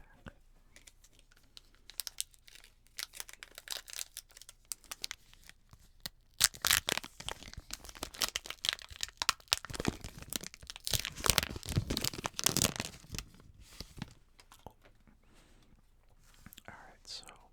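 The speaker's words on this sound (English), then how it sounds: "let's go ahead and open up our first pack" A Yu-Gi-Oh Battles of Legend booster pack is torn open and its foil wrapper crinkled in close, bursty rustles that grow busier in the middle, while a soft whisper runs beneath.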